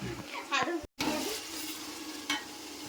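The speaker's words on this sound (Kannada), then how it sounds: "ಎಣ್ಣೆ ಟೊಮೊಟೊ ಈರುಳ್ಳಿ ಇವಾಗ ಶುಂಠಿ ಬೆಳ್ಳುಳ್ಳಿ ಪೇಸ್ಟ್ ಹಾಕ್ತಿದ್ದಾರೆ" Ginger garlic paste fries in hot oil with tomato and onion in a home kitchen for dum biryani, giving a steady close sizzle stirred through, with voices speaking over it and a brief dropout near the start.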